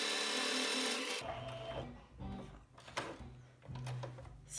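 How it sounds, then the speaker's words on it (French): An electric sewing machine stitching a fabric face mask runs in a steady whir for about a second, followed by short bursts of stitching and handling noises, close and moderately loud, with no talk. "Et on continue la couture."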